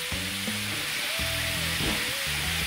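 Squid fries in a hot pan for arroz negro with red prawn, crackling and sizzling steadily up close, with a few brief whistling tones and soft clinks of stirring over the constant fry.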